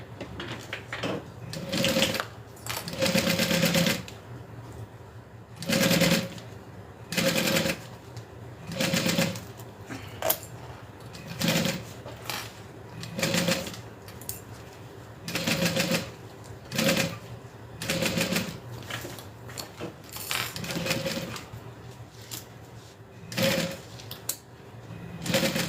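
A sewing machine stay stitches a backpack in repeated bursts, each run a loud, rapid mechanical whirr lasting a second or two, separated by short quiet pauses.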